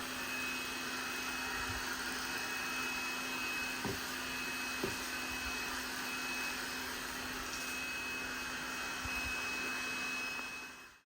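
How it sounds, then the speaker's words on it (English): A small robot vacuum cleaner runs steadily in a home bedroom, giving a constant mid-level motor whir with a few faint knocks as it moves. Near the end the hum stops abruptly. "just love our little robot vacuum"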